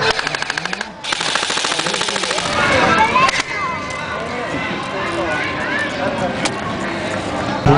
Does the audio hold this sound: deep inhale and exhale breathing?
no